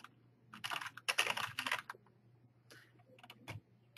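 Computer keyboard keys clatter in quick bursts as a geofence name is typed, soft and close in a quiet room, with short pauses between clusters of keystrokes.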